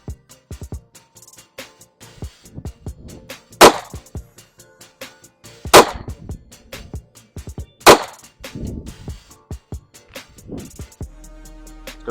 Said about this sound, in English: Going to shoot one more group of 3 at that same diamond.